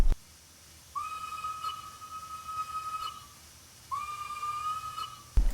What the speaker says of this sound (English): That would be because it is actually a teapot whistle like the L and the R locos